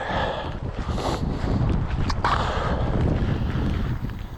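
Cold wind blows outdoors in the Catskills, a loud, steady roar buffeting the microphone with gusty swells throughout.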